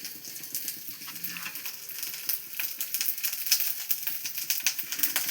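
Onions sizzle and crackle in a hot wok, a dense steady frying hiss with small scattered pops that builds slightly louder toward the end, with no voices.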